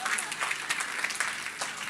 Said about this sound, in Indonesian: kasih tepuk tangan semua